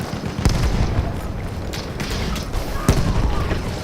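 A grenade goes off in the video game Battlefield 1 among constant battle noise. Dull booms land over a dense, continuous rumble of gunfire and effects.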